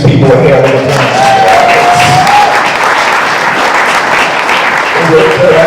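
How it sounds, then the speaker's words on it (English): Comedy club audience applauding nurses and front-line healthcare workers, steady dense clapping with some cheering, loud and sustained throughout, with voices mixed in. "So how about we give these people a hand of applause?"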